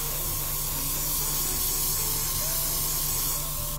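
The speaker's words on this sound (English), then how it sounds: "Make sure everything gets a nice coat of this flat clear lacquer." Flat clear lacquer hisses from a spray can in one steady, close, continuous burst that lasts the whole stretch with no pauses.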